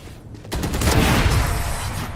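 Gunfire rips through a match of a tactical shooter game after a spike plant, opening with a sharp burst and rolling into a dense, loud stretch of rapid shots with no voices over it.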